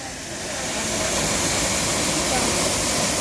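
Steady broadband roar of Jeolgu Falls, a mountain waterfall dropping into a deep rock basin along a hiking trail in Korea, loud and continuous with no break.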